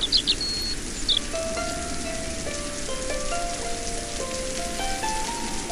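Steady cold-season rain falls continuously, a dense close hiss of drops hitting surfaces, with a few faint brief tones drifting over it and no voices.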